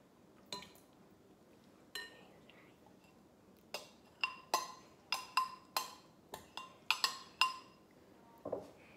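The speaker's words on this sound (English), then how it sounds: "you want to take your condensed coconut milk and mix that in as well" A utensil clinks against a bowl while condensed coconut milk is stirred into a banana pudding mixture. The taps are faint and irregular, scattered in short clusters over quiet kitchen background, with no speech.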